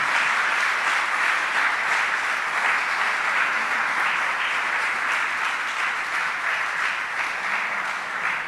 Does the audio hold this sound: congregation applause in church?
yes